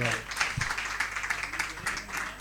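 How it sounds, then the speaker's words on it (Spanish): Studio audience applause on a Spanish comedy talk show, a steady patter of clapping that runs throughout with a voice speaking over it. "Un aplauso para la dimisión de Mazón."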